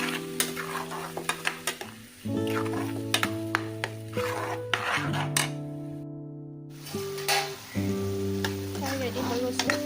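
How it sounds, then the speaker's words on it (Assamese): Spinach masala for palak paneer sizzles in a pan while a spoon stirs and scrapes through it, steady frying hiss with clinks and knocks of metal, close and continuous, with a brief pause midway. "এইখিনি কেঁচা গোন্ধ যোৱালৈকে ভাজিম।"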